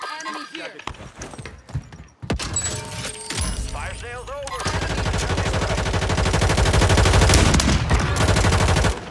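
Gunfire in a multiplayer video game, with scattered single shots and then a long sustained burst of rapid automatic fire building to a loud, dense rattle, while players talk over it.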